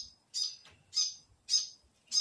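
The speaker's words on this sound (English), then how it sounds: "You can hear in the background a little fantail." A New Zealand fantail calls nearby, four bright, sharp chirps spaced at a steady rhythm with quiet between them, heard alone.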